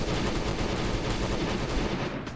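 Rapid automatic gunfire from a modded SCAR rifle in a first-person shooter, a dense continuous burst with loud broadband bangs throughout, no talk over it.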